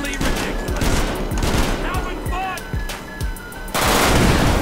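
A vehicle-mounted minigun in a GTA 5 zombie mod rips off continuous rapid bursts of gunfire, loud and close, with engine and impact noise mixed in and brief voices underneath.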